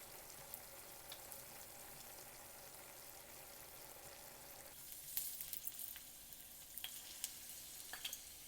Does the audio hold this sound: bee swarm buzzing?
no